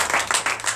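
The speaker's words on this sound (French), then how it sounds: "Donnez l'acclamation à sa parole" A short burst of hand clapping from a congregation at a morning prayer service in Benin, steady and close, with no voices.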